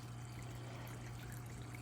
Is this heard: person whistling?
no